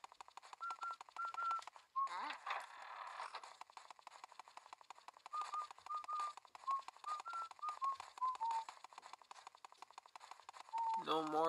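Luigi whistles a melody in the Luigi's Mansion video game, a series of clear, thin whistled notes in short phrases with pauses, over quiet game ambience and clicking.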